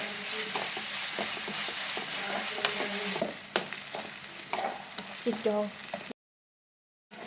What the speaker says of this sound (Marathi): चांगलं 2 मिनटं असं फ्राय करून घ्यायला